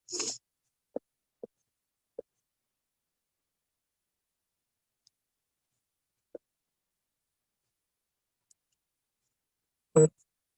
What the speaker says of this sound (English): can you guys hear the clicking of my keyboard?